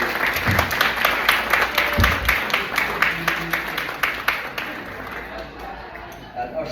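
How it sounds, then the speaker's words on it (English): A crowd gives a round of applause at an event at Pasadena Club, with steady, close clapping that carries for several seconds before thinning toward the end. "A big round of applause for Ailish"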